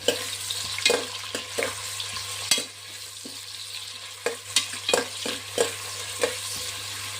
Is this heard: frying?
yes